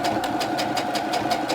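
A sewing machine stitching fabric, a fast steady mechanical whirr with regular rapid pulses, close and continuous, no voices.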